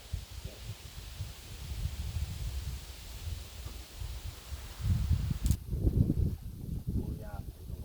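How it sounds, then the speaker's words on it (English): Outdoor wind picks up, rumbling and buffeting in low gusts that swell and ease, growing strongest near the end, with occasional faint rustling. "Oh yeah, there's a wind picking up."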